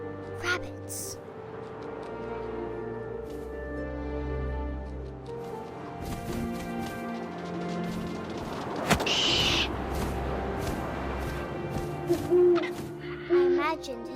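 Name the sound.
owl hooting, from the video game What Remains of Edith Finch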